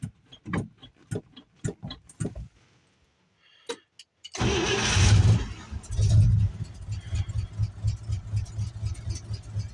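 An old car or truck is started for the first time in spring: sharp clicks and ticks, a short quiet pause, then the engine cranks, catches and settles into a rough idle nearby.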